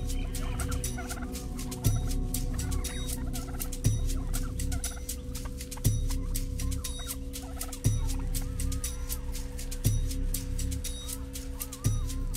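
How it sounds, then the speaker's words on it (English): Australian brush turkey calling loudly and close, a steady rapid gobbling chatter with a deeper thump repeating about every two seconds, alone with no talk. "the often annoying and always confronting brush turkey"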